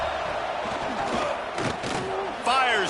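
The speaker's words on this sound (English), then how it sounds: "Man, this crowd really affecting the football game." Stadium crowd noise in the College Football 26 video game, a dense continuous roar of fans with swelling shouts and cheers, loud and steady throughout with a brief whistle-like tone near the end.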